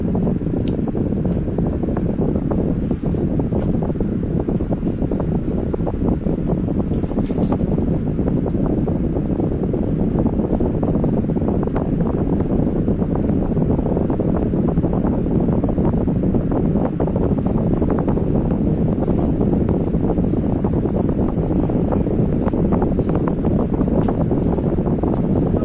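An Altezza AMF-1627BL table fan runs on its highest setting, speed 3, giving a steady, loud, airy whoosh with a low hum underneath and no break for the whole stretch.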